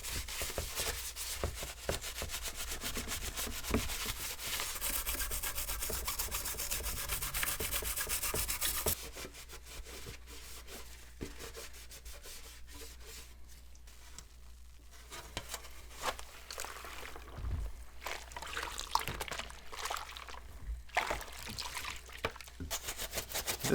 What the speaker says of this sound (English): I'll just only get it wet for a short period of time and dry it off immediately after cleaning it.